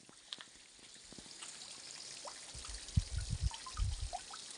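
Water runs out and trickles into a cutout during water-conservation work in a hill village in Uttarakhand, with light dribbling that builds into heavier gurgling splashes near the end.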